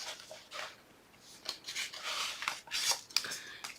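Adhesive tape is pulled off a roll and pressed onto paper for a handmade paper folio, producing faint, close rasping and crackling bursts in quick succession.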